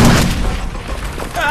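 A grenade blows up in the shooter game Far Cry 4, a loud, booming blast at the start that decays under ongoing game noise while someone talks.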